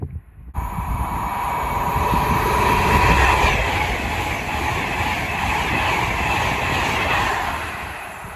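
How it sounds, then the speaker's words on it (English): Avanti West Coast passenger train hauled by locomotive 39135 passing through Lichfield Trent Valley on the West Coast Main Line, a loud, steady rolling rumble with high-pitched rail squeal and wind buffeting, heard alone. "There we have 39135 with an Avanti West Coast service from Liverpool Lime Street to London Euston."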